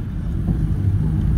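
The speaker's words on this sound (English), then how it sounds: "We're on the bus about to head out to the airport." Tour bus engine heard from inside the cabin in Jamaica, a low, steady rumble with a faint muffled drone throughout, no talk over it.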